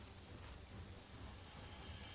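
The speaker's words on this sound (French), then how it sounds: "en plus, il se met à pleuvoir" Steady rainfall in the survival game Conan Exiles, a dense even hiss with low rumbling body running unbroken throughout, with no talking.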